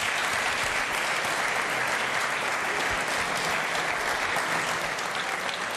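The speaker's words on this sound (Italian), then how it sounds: "Allora facciamo un applauso a Giacomo." A crowd at an Italian sports Christmas gathering gives sustained, dense applause for Lavagnese player Giacomo Avellino, a loud, even roar of clapping that holds steady for several seconds.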